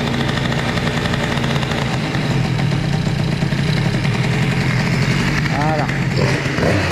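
A Bidalot RF 50 WR moped engine idles steadily while warming up, a continuous low chugging throb close by, with a brief spoken word over it near the end.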